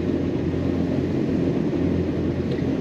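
Yamaha boat engines idle at the helm with a steady, low, continuous rumble that stays even and close throughout, with no talking.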